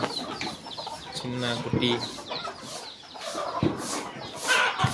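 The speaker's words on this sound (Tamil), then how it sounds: "நாட்டு சேவல், ஆட்டுக்கு மேலே கோழி குஞ்சு" A country rooster and chickens on a farm with goats cluck in a few short bursts, moderately close, while a person talks over them.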